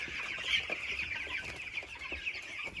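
A full brooder of young chickens chirps and clucks continuously, with many overlapping peeps from nearby birds forming a busy, steady chorus.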